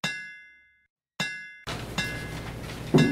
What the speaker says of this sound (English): We hear his father's voice and the sound of iron hammer and iron ringing inside.